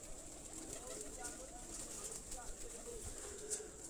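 Flock of pigeons kept as flying birds on a rooftop, soft cooing and bird calls throughout at moderate distance over steady background noise.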